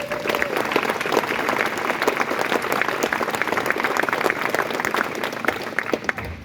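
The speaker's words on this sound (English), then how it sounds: "To give those guys a round of applause" A crowd at the Worlds End Ultra 2024 pre-race briefing applauds the volunteers and support crews with steady, moderately loud outdoor clapping that runs for several seconds.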